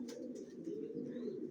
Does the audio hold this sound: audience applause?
no